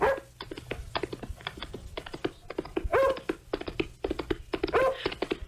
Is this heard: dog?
yes